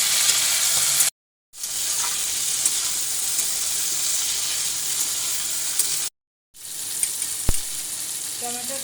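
Potatoes, cauliflower and tomato fry in a pan with a loud, steady, hissing sizzle, close up and continuous apart from two short breaks, with a faint click or stir near the end.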